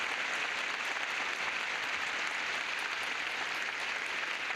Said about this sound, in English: Let's give a nice round of applause and get it underway.